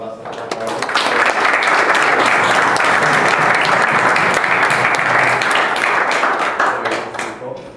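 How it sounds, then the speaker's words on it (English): A lecture audience applauds for speaker Haris Dafaranos at a talk on the EU, sustained dense clapping for roughly seven seconds that swells quickly and tapers off at the end. "we should all give another round of applause to Haris Dafaranos."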